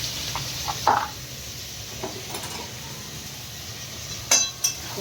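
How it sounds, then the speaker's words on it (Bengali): Potatoes frying in oil with tempering spices, a soft steady sizzle under occasional stirring scrapes and a couple of sharp clinks of a utensil against the pan. "ফোড়নের সাথে লাল করে আলুটা ভেজে নেব"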